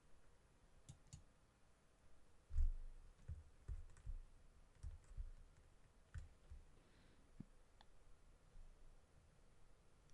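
Soft mouse clicks tap out singly and in short bursts at close range, quiet and dry against a faint hiss of room noise, while someone works in After Effects.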